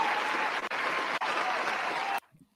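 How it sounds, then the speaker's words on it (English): A round of applause rises from a crowd, dense steady clapping that stops abruptly at the end. "Yeah, round of applause."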